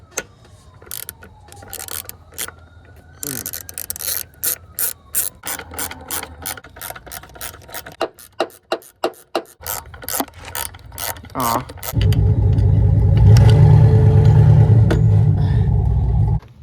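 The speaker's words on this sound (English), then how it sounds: "One thing we need to clear out is the 4 little bolts here, which we can do." A hand ratchet removes four small bolts on a Chevrolet Trailblazer engine, rapid clicking bursts with pauses between them, close and loud, then a steady rumbling whir near the end.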